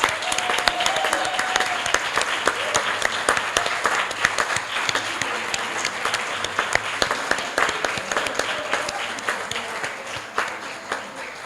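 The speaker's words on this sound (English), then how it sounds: "Give you all a round of applause." A room full of people gives a round of applause to AFRA members at a Race Amity Day gathering, a loud, dense, sustained clapping that continues evenly for several seconds with a faint voice briefly under it.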